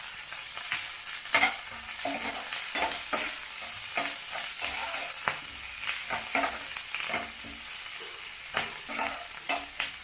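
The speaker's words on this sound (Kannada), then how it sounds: "ಚೆನ್ನಾಗಿ ಸ್ವಲ್ಪ ಕೆಂಪಾಗಲಿ ಈರುಳ್ಳಿ, ತುಂಬ ಏನು ಬೇಡ, ಸ್ವಲ್ಪನೇ." Onions frying in a pan with a little salt, a bright steady sizzle broken by frequent scraping strokes of a spatula stirring them, close and continuous.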